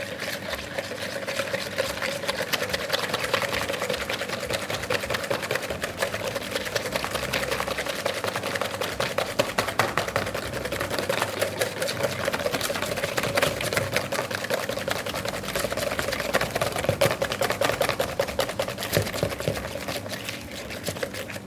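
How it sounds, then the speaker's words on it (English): Double cream being whisked by hand toward stiff peaks: a rapid, relentless clicking of a wire whisk in a bowl, loud, close and unbroken for over twenty seconds with no voices. "I'm going to whisk by hand until I have something nice and stiff"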